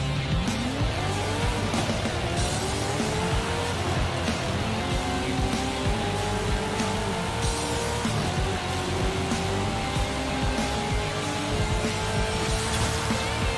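Engine of a tuned car on a race suspension setup launching down a drag strip in Forza Horizon 5, roaring loudly and rising in pitch through several gear shifts over a steady droning rumble, with no talking.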